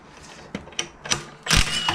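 A ratchet works a bolt loose on the rear subframe of a Lexus IS300: a few scattered mechanical clicks, then a louder, denser burst of ratcheting near the end, close by.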